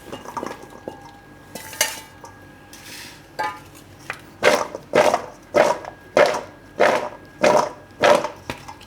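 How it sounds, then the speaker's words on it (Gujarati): Cut gunda and raw mango pieces for an instant pickle are stirred together in a bowl, a run of rhythmic, close scraping clinks as the spoon strikes the side, about eight evenly spaced strokes after a few irregular knocks. "તો આને બેને આપણે મિક્સ કરી લેવું, ગુંદા અને કેરી 2 આ રીતે."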